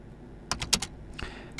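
Typing on a computer keyboard, a short burst of close, crisp key clicks in quick uneven clusters, quiet and alone.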